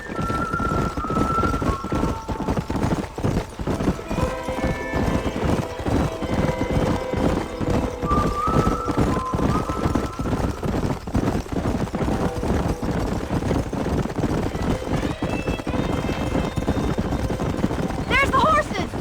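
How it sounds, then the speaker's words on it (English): Horses galloping in the Red Dead Redemption video game: steady clip-clop hoofbeats run throughout, with occasional whinnies and game music, under frequent character dialogue. "There's the horses! Get that lasso ready!"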